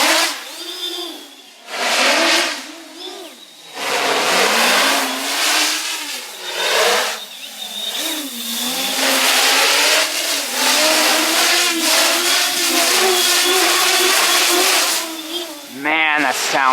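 A roughly seven-pound iFlight X-Class FPV racing drone, lit with LEDs, flying line of sight, its propellers producing a loud, buzzing whine that surges and drops in pitch as the throttle changes, with brief quieter dips.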